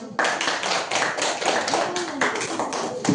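A classroom of students clapping their hands, a burst of close, crisp claps starting abruptly and continuing in uneven rhythm, fairly loud with a faint voice underneath.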